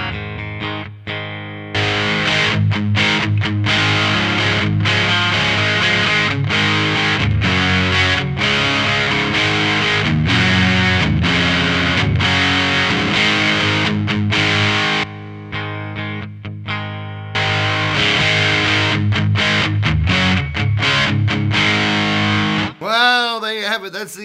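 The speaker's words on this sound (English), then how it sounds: "That's the MXR Distortion Plus through a valve amp, a solid state amp, and into the Strymon Iridium" Electric guitar through an MXR Distortion Plus pedal, loud and saturated, strummed riffs and held chords for over twenty seconds with brief breaks, ending in a short wobbling tail.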